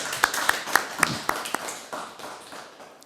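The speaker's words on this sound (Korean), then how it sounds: "우리 하나님께 영광의 박수 올려드리겠습니다." A church congregation clapping during Sunday worship, a few sharp rhythmic claps at a steady beat over a softer spread of applause that fades within three seconds.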